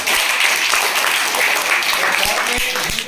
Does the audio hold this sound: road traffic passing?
no